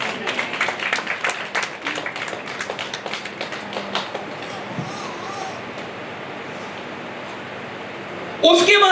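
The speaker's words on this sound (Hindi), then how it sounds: "अरे ताली बजाना।" A church congregation clapping hands, a rapid patter of many claps close by for about four seconds that thins and fades into quiet murmuring, with voices present and a sudden loud noise at the very end.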